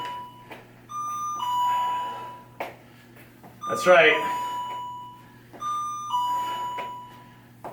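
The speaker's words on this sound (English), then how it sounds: "The bell system is still going." Electronic bell system sounding a series of clear tonal chimes and beeps in repeated bursts, with a brief spoken phrase in the middle of the sequence.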